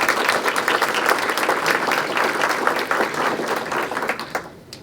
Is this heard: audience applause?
yes